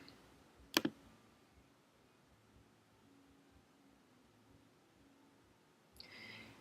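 Sharp double click of a computer mouse selecting an article link during a literature search, brief and close, followed by quiet room tone and a faint rustle near the end.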